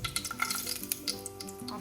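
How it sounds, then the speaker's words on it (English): Whole spices hit hot oil in a pan, giving a steady close sizzle and crackle with small pops and light stirring scrapes, no voices over it. "So once the oil is heated, I'm going to add the whole spices."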